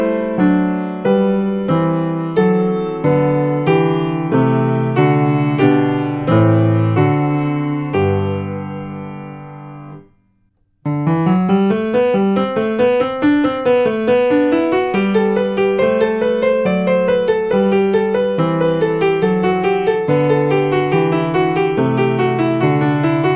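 Keyboard plays a dissonant Baroque tight-bass sequence of 4-2 chords resolving into 6-5 chords, sustained harmonic chords in a steady rhythm, loud and close, with a brief pause midway before a denser continuation.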